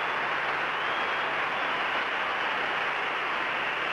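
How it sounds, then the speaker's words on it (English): Stadium crowd applauding high jumper Debbie Brill at the 1979 World Cup in Montreal, a dense, steady wash of distant clapping filling the whole stretch without a break. "the applause you can hear is not for the athletes on the track, but for Debbie Brill"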